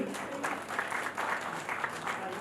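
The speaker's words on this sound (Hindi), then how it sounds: "हम सबको ग्रैंड सैल्यूट करना चाहिए, तालियां देना चाहिए।" A short burst of audience clapping at the Nari Today Awards 2022 ceremony in Lucknow, moderately loud and fairly even, with slight swells in the crowd sound throughout.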